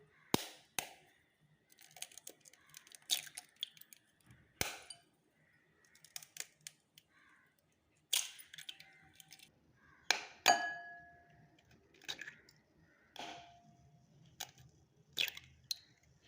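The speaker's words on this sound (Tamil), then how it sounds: "ஒரு மிக்சிங் பவுல் எடுத்துக்கோங்க. இதில் 4 முட்டை நம்ம உடச்சி ஊற்றிக்கலாம்." Four eggs cracked one after another into a mixing bowl for a roadside cheese bread omelette, giving sharp close shell taps and clinks in irregular bursts with soft wet drips between, no talking.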